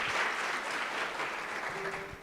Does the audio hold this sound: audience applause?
yes